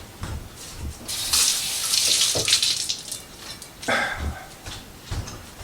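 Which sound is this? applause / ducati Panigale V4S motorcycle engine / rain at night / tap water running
tap water running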